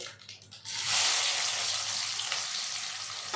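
Sliced onions hit hot oil with mustard seeds and curry leaves, bursting into a loud, steady sizzle that holds close up throughout.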